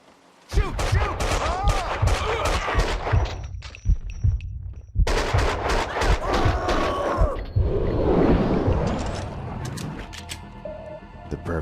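Gunfire in Max Payne 2 comes as dense, rapid bursts of close, loud shots and metallic clangs, with a couple of brief pauses and a rumbling, crackling tail.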